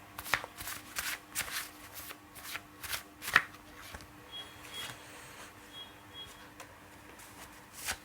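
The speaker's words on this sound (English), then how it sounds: "let's pull out some cards from my deck" A deck of tarot cards being shuffled, soft repeated riffling and flicking bursts, close and fairly quiet, with no talking.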